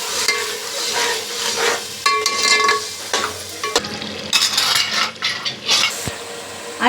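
Tomato gravy with spices sizzling in a pan while a utensil stirs and scrapes against the metal, with close irregular clinks and bursts of frying hiss.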